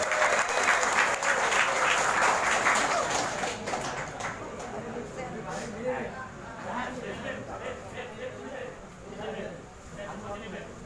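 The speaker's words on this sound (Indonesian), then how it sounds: "Tepuk tangan untuk Habib Jen." An audience at a Maulid Kebangsaan gathering applauds Habib Jen: dense clapping swells loudly, then thins and tapers over several seconds while a speaker talks over it.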